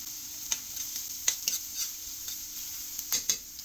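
Onions sauté and sizzle in a pan for ampalaya with egg, a steady close hiss broken by several sharp clinks of a utensil stirring against the pan.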